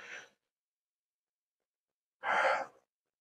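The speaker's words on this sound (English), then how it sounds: "Guys, I'm sorry I'm yawning." A long, breathy yawn rises and fades after a short exhale and a stretch of silence, close and fairly loud, with no talking.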